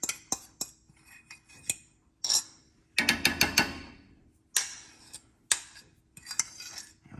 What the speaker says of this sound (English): then whisk them in really well before we even turn the heat on